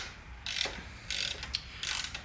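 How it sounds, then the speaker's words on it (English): A 12mm socket ratchet tightens motorcycle triple clamp bolts, giving three short bursts of quiet close-up clicking separated by brief pauses. "Use a 12mm socket to tighten these up."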